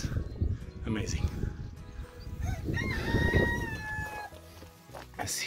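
A rooster crows on a farm for sale near Castelo Branco, Portugal, a drawn-out call rising and falling over about a second and a half, heard at moderate distance amid outdoor background noise.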